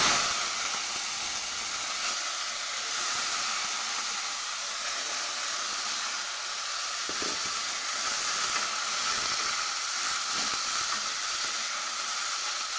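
Cut and washed yardlong beans frying in a wok with no added oil, giving a steady broad hiss and sizzle.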